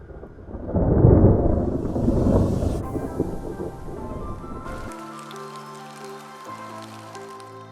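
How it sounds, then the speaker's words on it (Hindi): Steady rain on Jeju Island, South Korea, with a low rumble of thunder rolling in the first half, then continuing softly as a constant wash, with tonal music entering partway through. "मेरे इस नए दिन की शुरुआत बारिश से ही हुई"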